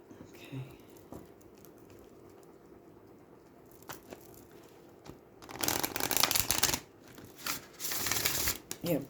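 A deck of oracle cards shuffled by hand, heard as a soft patter and riffling bursts that build louder in the second half, with quieter handling noises before.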